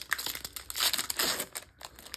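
Magic: The Gathering set booster pack wrappers for Streets of New Capenna being torn open, a close, loud crinkling and tearing of foil plastic in several bursts with brief pauses between.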